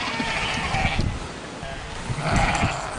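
Sheep bleat loudly and close by, several overlapping calls in quick succession.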